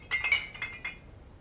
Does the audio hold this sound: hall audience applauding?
no